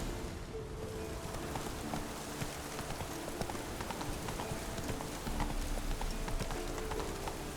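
Horse hooves clip-clop steadily over ground in The Witcher 3, a continuous rhythmic patter of hoofbeats at moderate loudness with a faint ambient wash behind them.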